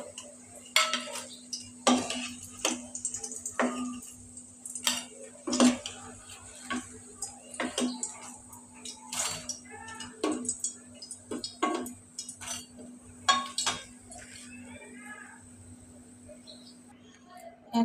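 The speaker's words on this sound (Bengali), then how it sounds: "এখন আমি চপগুলি উঠিয়ে নেব।" A cook lifts fried chops out of a frying pan, with metal utensils clicking and scraping against the pan in irregular taps beneath a steady sizzle while someone speaks.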